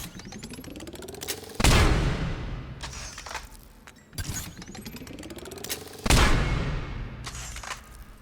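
The Kishock harpoon gun in the Mass Effect 3 video game fires twice, each shot a rising charge whine, then a loud sharp crack with a decaying tail, alone without talk.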